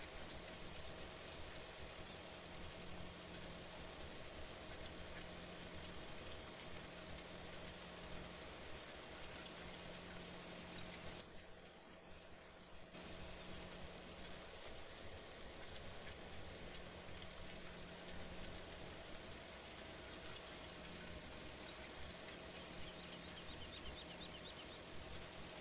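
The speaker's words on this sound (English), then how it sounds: "Man, this tractor is so quiet." A tractor engine idles in Farming Simulator 2017, a steady low drone with a faint rumble that runs unbroken for the whole stretch, quiet and even with one brief dip midway.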